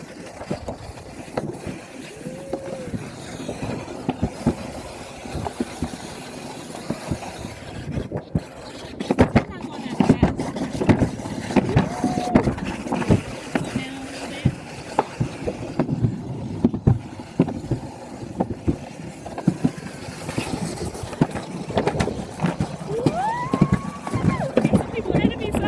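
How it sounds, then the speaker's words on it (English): A rider's sled rumbles and scrapes down the Alpine Slide track at Big Bear, California, with constant bumpy clatter and wind buffeting the microphone while people talk over it. "I'm on the Alpine Slide in Big Bear."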